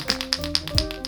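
Fishing lure with a loud single knocker rattle: a quick series of about five sharp, close clicks and knocks at a steady rhythm, alone.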